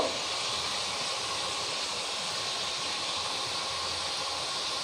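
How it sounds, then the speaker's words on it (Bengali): A steady, loud hiss of steam while prawn curry with red chilli and turmeric is being fried, continuous and unbroken throughout. "আমি এখানে স্টিমটা একটু বাড়িয়ে দিচ্ছি যাতে কষানো ভালো হয়"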